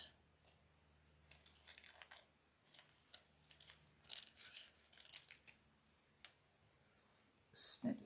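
Scissors snip through folded paper card while cutting out a heart shape, giving a string of short crisp cuts and rustles in bursts, fairly close and quiet, with a louder cluster of snips at the end.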